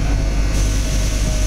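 A passenger train travelling to Rome, Italy, fills the clip with a loud, steady low rumble and rolling wheel noise, heard from on board with no talk.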